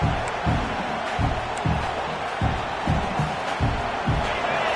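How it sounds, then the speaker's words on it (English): An LSU football stadium crowd roars in a dense, sustained wash of cheering and chanting with rhythmic pulses, loud and surrounding, under faint talk. "This crowd bringing the energy and noise early"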